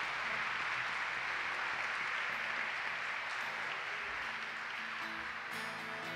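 A church congregation applauds steadily throughout, a dense even wash of clapping that stays loud and continuous from start to finish.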